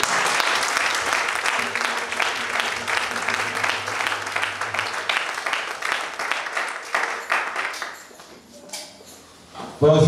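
A church congregation breaks into loud, sustained applause at a Sunday morning service, dense clapping filling the space for about eight seconds before it thins and fades.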